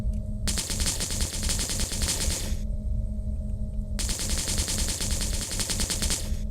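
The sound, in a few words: gunfire shooting at a tank in video game Project Frontier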